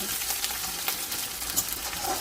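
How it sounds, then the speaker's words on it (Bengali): Lightly crushed garlic fries in hot oil in a village kitchen, giving a soft, even sizzle with faint crackles, close by and quiet. "আমি রসুনগুলোকে একটু সময় নিয়ে লালচে করে ভেজে নেব"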